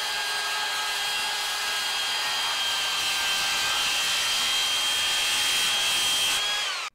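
A Skilsaw 7-1/4 inch TRUEHVL cordless worm drive circular saw cuts through MDF with a steady high-pitched whine lasting several seconds, loud and close, then stops abruptly.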